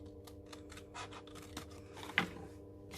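Scissors snip through stampin' cardstock along score lines in a rapid series of small, close, crisp cuts and scratchy clicks, quiet and without talk.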